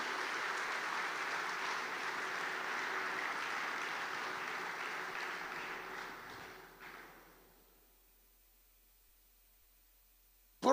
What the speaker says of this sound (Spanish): Vamos, dale fuerte ese aplauso a Él.